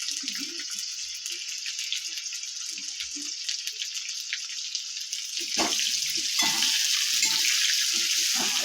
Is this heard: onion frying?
yes